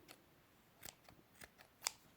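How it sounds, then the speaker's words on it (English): Scissors snip crochet yarn near the end of a granny rectangle round, a few faint, sharp clicks spaced irregularly against a quiet background. "I'm going to snip my yarn."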